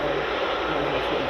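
A Jet2 airliner on the runway at Edinburgh Airport gives off a steady, loud, broadband engine roar that holds constant through the short stretch.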